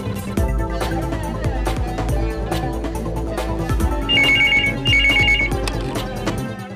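An outgoing call in a Telugu TV serial rings as two short, trilling bursts over steady background music.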